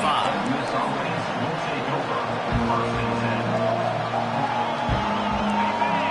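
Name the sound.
stadium crowd cheering at a college football game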